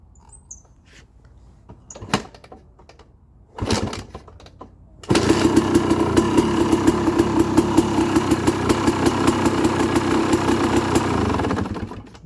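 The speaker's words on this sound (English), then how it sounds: "after you shut it off like that, what I would do is instantly try to kick it over again" A dirt bike engine is kicked over and catches after a couple of sputtering attempts. It settles into a steady, loud, rapid idle with a buzzing putter that continues to the end, alone with no talking.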